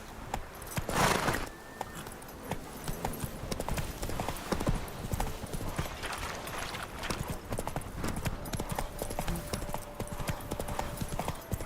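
Roach the horse from the video game The Witcher 3 runs with fast, rhythmic hoof clip-clops throughout, close and fairly loud, with a brief whinny-like burst near the start.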